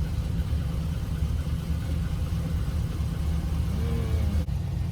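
A Dodge Challenger Scat Pack 392 R/T widebody, a damaged auction car, runs with a deep, steady low engine rumble close by, rough and shaking, with only a slight rise in revs.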